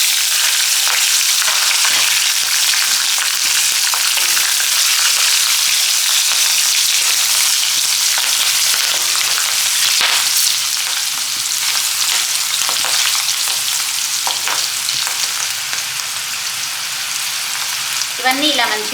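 Turmeric, green chillies and dried red chillies fry in hot oil with a loud, continuous crackling sizzle and occasional stirring for the whole stretch, with no voices.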